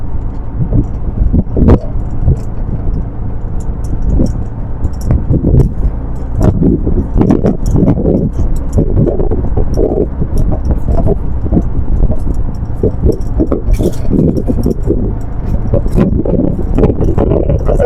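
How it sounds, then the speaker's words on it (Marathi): Riding in an auto rickshaw along a village road in Kelus, a Konkan village, with a continuous loud engine rumble and steady rattling and jangling of the vehicle throughout. "एक काका रिक्षाने घेऊन आम्हाला तिकडेच जात आहेत"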